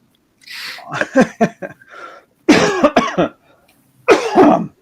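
A string of coughs and throat-clearing bursts, close and loud, in three clusters separated by short pauses.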